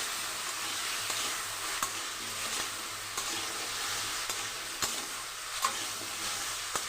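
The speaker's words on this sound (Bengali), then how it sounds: "বেশ লাল লাল করে ভেজে নেব।" Potatoes frying in a pan for a vegetarian potol alur dalna, a steady broadband sizzle with occasional soft stirring scrapes and clicks, close and continuous, with no talking.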